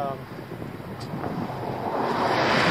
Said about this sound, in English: It's a little breezy out here in the farm field.